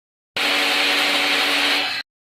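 A kitchen mixer grinder grinds chutney, whirring loudly at high speed for under two seconds, starting and stopping abruptly, with no voices.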